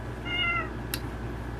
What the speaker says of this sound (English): I know you can hear that cat in the background.